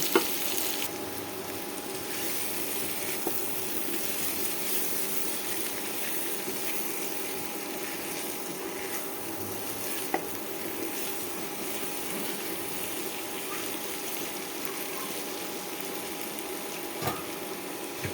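Pumpkin pieces frying in a pan with ginger-garlic and cumin paste, giving a soft continuous sizzle and faint scraping as they are stirred, low in level with a few light clinks.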